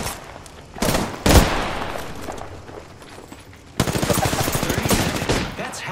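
Video game gunfire erupts in loud bursts of rapid automatic shots, with a heavy crack early on and a sustained fusillade in the later half, set against an ongoing battle din.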